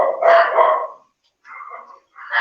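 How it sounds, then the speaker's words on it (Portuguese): A dog barks close by in two or three loud, rough bursts with a short quiet gap between them, with no talk over it. "O cachorro latiu aqui, mas pode seguir."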